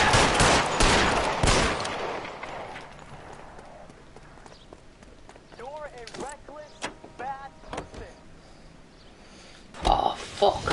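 Video game gunfire in L.A. Noire: a burst of loud, rapid shots at the start that fade into an echoing tail, then scattered sharp cracks and further shots near the end, mixed with game sounds and voices.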